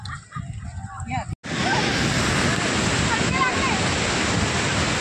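Sea surf at Navapur beach during a family Holi outing: after a few seconds of muffled voices and handling, a loud, steady roar of waves and wind fills the rest, with people faintly audible under it.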